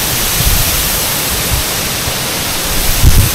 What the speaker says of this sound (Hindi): देखिए वाटरफॉल